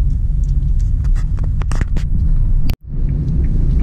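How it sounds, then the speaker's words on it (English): Heavy road traffic in Houston gives a loud low rumble with scattered passing-vehicle noises, heard from inside or near a moving car, with a brief dropout near the end. "there's lots and lots of traffic"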